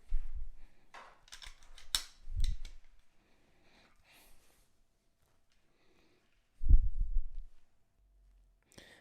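A Springfield XD 45 handgun is handled and its slide pulled to the rear, producing a few close metallic clicks and snaps followed later by a duller thump, with quiet gaps between them.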